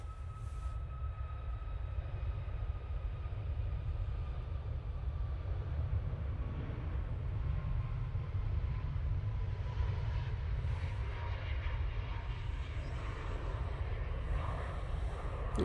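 A Ryanair Boeing 737 MAX 8 takes off at Manchester Airport, a steady, loud jet roar with heavy low rumble that holds for the whole stretch and swells slightly near the end, with no talking.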